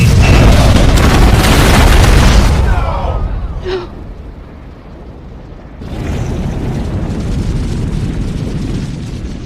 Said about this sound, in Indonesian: Bunker itu pun meledak dan menewaskan Yasanwa.